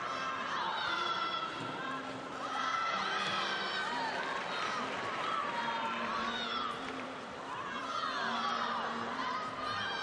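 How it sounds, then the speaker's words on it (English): A large arena crowd cheers and shouts in a sustained roar during an uneven bars final at the European Artistic Gymnastics Championships, with a commentator talking over the noise. "Crowd's really cheering her on."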